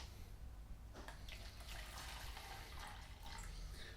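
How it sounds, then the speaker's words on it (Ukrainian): Water is poured steadily during a lecture demonstration on artificial reefs, a continuous close splashing trickle with faint voices in the background. "Ми зараз наливаємо водички."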